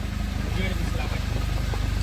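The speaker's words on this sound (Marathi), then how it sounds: "रिक्षा चालवत आहे" An auto rickshaw engine runs while driving, a steady low, pulsing drone beneath people talking nearby.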